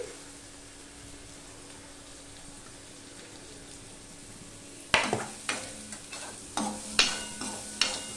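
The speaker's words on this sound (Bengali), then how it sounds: "লঙ্কা, পেঁয়াজ, রসুন আমার দেখো লাল লাল হয়ে ভাজা হয়ে গেছে" Chilli, onion and garlic sizzle softly in a pan for a Bengali flat-bean dish, then a spatula stirs and scrapes in a series of sharp, close strokes over the louder frying hiss.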